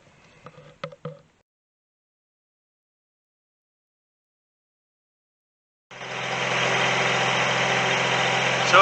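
A Kubota three-cylinder diesel with a Zexel injection pump cranks and catches after a jump start, then settles into a steady, loud, close idle rumble lasting the final three seconds, preceded by a few brief clicks.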